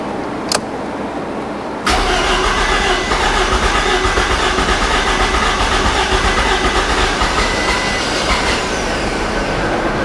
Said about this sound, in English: Engine sounds fantastic.